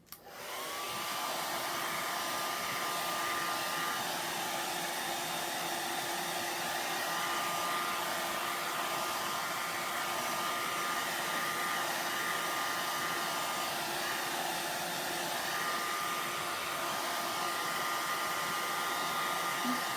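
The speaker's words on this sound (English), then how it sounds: "I'm going to use the blow dryer really quick" A hair blow dryer runs continuously for about twenty seconds, a steady, loud whirring rush of air with a faint tonal whine and no pauses.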